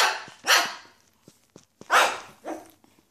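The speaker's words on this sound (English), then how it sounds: "He barking, Easy." A dog barks in two loud, close bursts, each a quick pair of barks separated by a short pause, with faint clicks and rustling between them and no talk.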